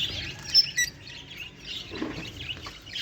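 Soft, high squeaky chirps and fluttery patter from pigeon chicks begging for food, faint and scattered over a low background hum.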